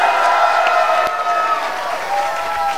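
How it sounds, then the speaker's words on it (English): A studio audience claps and cheers steadily for a live talk show taping, a dense, continuous wash of hands that stays loud and even from start to finish. "clap again, here we go"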